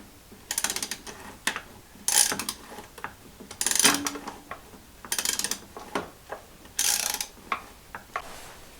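Ratchet wrench on a long extension with a universal joint working a fastener on a Mercruiser Alpha One bellows, giving repeated close bursts of rapid clicking with short pauses between strokes.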